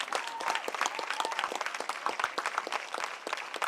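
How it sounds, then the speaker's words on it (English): Volunteers and doctors at a service recognition event receive loud, dense applause from a large crowd, sustained clapping filling the whole stretch. "They truly deserve a loud applause"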